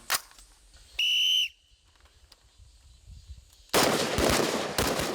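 Rifle fire from a military shooting drill at a frontline reconnaissance battalion, a sharp close report at the start, then a loud dense burst of gunfire near the end, with a whistle-like tone earlier.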